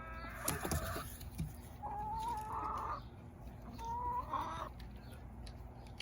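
Chickens cluck close by with soft, drawn-out calls and short clucks, over a low background rumble.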